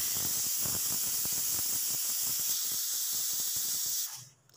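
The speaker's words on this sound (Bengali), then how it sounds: "প্রেসার কুকারে 2টো সিটি হলে নামিয়ে নিই" Pressure cooker on a gas stove cooking whole small potatoes for aloo dum, giving a steady loud hiss of escaping steam with rapid sputtering pulses, cutting off abruptly near the end.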